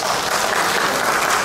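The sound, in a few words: audience applause at an award ceremony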